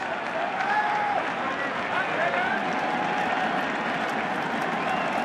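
A baseball stadium crowd at a 2013 World Series game between the Cardinals and Red Sox cheers and applauds in a dense, continuous roar, with a broadcaster talking over it.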